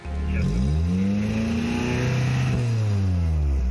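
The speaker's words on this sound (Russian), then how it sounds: "Замер уровня шума выхлопных систем автомобилей" A car's exhaust roars as the engine revs up during an exhaust noise level measurement, holds a loud droning pitch, then eases and climbs again, close by.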